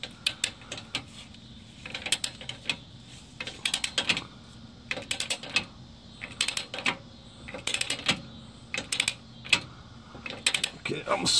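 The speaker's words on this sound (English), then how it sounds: "get this torqued to 35 foot-pounds" Oil pan bolts on a Dodge Ram being tightened to 35 foot-pounds, a string of close, sharp ratchet clicks and metallic ticks in irregular bursts, with no voices.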